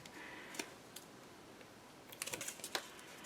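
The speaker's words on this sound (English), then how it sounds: "I'm just taking off my tape backing right here" Backing peels off double-sided tape for a paper craft mini album, heard as faint, close crackles and short rustling ticks that cluster near the end.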